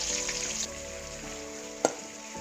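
Chopped shallots sizzle in hot coconut oil with popping mustard seeds, a steady close frying hiss with one sharp pop near the end.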